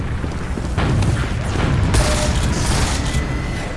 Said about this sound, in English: Don't freaking shoot at me, you little.